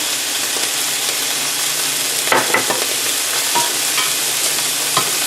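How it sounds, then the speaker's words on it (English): Garlic fries in a pan for an Italian pork braciole sauce, giving a loud, continuous close-up sizzle broken by a few quick clatters of stirring. "our garlic is cooking good"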